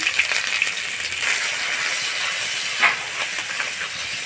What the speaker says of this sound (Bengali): পেঁয়াজটা পুড়িয়ে দিলাম, ভেজে নিচ্ছি।